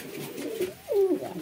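Pigeons coo near a house, a short, soft pair of low throaty coos close by, with no voices over them.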